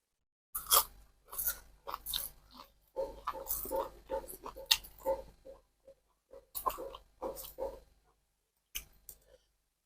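Close, loud crunching of crisp fried grasshoppers being chewed, in irregular bursts separated by short pauses.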